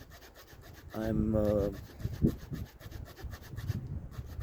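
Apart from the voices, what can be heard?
Victorinox Swiss Army knife saw cutting a small branch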